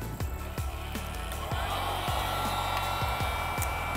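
Steady broadband whooshing of a hot-air tool blowing continuously, with faint clicking or tapping sounds repeating irregularly underneath.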